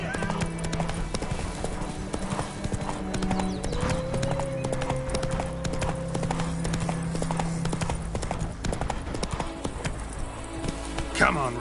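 Roach, a horse in The Witcher 3 on PS5, gallops with rapid rhythmic hoof clip-clops over game music, a whinny rising midway and a voice speaking over it.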